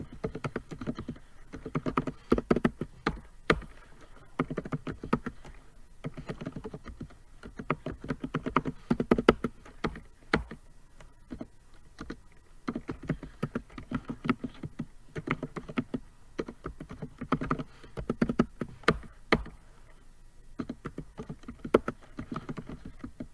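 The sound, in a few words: typing on a computer keyboard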